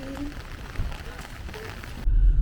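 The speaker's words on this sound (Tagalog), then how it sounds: "The rain is not stopping." Heavy rain patters steadily on a surface and car outside a church in St. Albert, a continuous wash of drops with a louder thump near the end.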